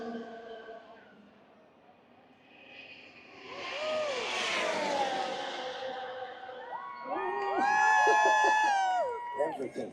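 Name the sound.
Formula One car engine on throttle, Las Vegas Grand Prix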